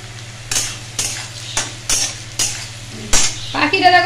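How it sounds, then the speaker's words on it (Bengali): Potatoes fry in a pan while batter flatbread cooks, with a spatula scraping in about seven rhythmic strokes roughly half a second apart over a steady sizzle, close and moderately loud. "এই যে ওই আলু ভাজি আর গোলা রুটি করছি"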